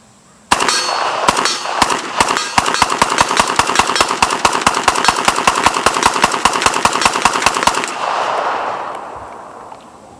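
AK-pattern rifle with an underfolder stock firing a full 30-round magazine of Red Army Standard ammunition, a loud, rapid string of sharp shots with metallic clangs over about seven seconds, then a fading echo.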